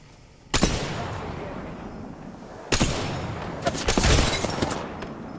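Sniper rifle shots in Apex Legends, a few loud booming reports with long rumbling tails, spaced a couple of seconds apart, then a denser cluster of heavy gunfire near the end.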